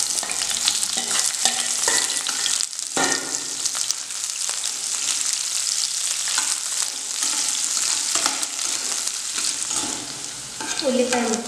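Onions sizzle and fry in hot oil with fenugreek and coriander seeds, a steady close crackle with stirring scrapes throughout and no talk.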